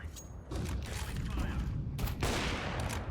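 Gunfire in a competitive shooter game fired while the player is still moving: a loud, dense burst of shots and mechanical clatter, close and continuous, with a louder flare partway through.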